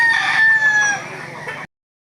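A young gamecock crows once at close range, a loud drawn-out call that tapers off over about a second and a half before cutting to silence, at a rooster sale.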